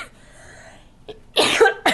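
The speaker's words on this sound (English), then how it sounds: "I'm getting over a cough." A person coughs twice near the end, a harsh close burst followed by a second shorter one, after a stretch of faint background.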